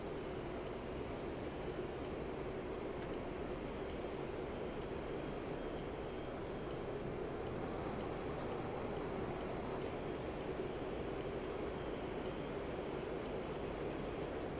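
Mirage F1 jet engine in steady cruising flight in a flight simulator, a continuous, even roar and hiss with no talk.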